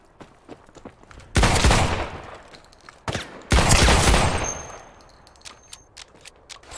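Gunfire in the video game Islands of Nyne: two loud, dense bursts of rapid shots a couple of seconds apart, with scattered sharp clicks and faint footsteps between them.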